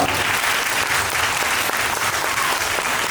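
Audience applause at a kindergarten graduation and closing ceremony in a school hall, a dense, steady wash of many hands clapping at close range for the full stretch without a break.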